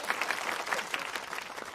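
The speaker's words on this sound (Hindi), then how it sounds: "तालियां।" Audience applause at a comedy performance, a dense patter of many hands clapping steadily, fairly loud and near, with no talk over it.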